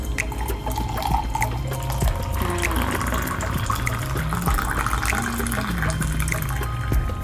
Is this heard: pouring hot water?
yes